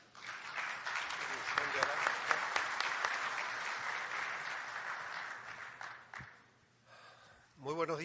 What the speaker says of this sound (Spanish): a quien vamos a recibir con fuertes aplausos